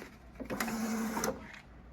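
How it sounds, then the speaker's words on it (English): A DS-300 ballot tabulator in a Connecticut election draws paper ballots through with a mechanical whir and feed clatter, a short burst of printer-like motor noise, near and clear. "now we're just going to feed through a few more ballots"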